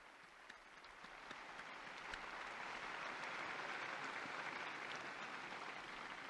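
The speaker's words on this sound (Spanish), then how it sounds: "Un aplauso para el nuevo beato." Large crowd applauding the newly beatified at a papal Regina Coeli prayer, distant clapping swelling gradually and then holding as a broad, even roar, heard alone without voices.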